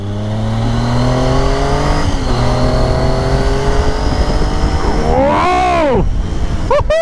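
A motorbike rides mountain curves near the Atal Tunnel, its engine note holding steady and then rising and falling sharply as it revs through a bend, loud and close throughout.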